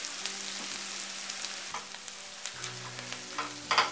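Onions frying in a pan for a kidney bean curry, a steady close sizzle with light crackles and occasional stirring scrapes, no talking.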